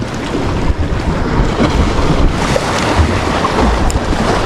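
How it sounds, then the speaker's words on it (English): Violent ocean waves crash around a tiny rocky island, a loud continuous roar of surf mixed with heavy wind buffeting the microphone, close and unbroken. "those waves are getting pretty violent"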